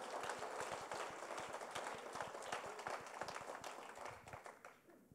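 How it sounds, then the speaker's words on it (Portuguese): A church congregation applauds together, a dense fast patter of many hands clapping loudly and steadily before fading out at the end. "Você pode aplaudir a Jesus por isso, meu irmão, mais forte que você puder."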